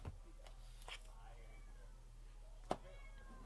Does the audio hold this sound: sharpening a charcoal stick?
no